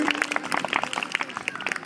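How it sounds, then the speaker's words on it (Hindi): An audience claps for a quiz-show contestant on the hot seat, a short, fairly quiet burst of many hands patting in a quick, uneven patter. "जोरदार ताली"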